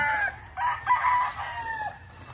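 A Boston Roundhead hen and pullets cluck and call in a few short, close vocal bursts, with no talk over them.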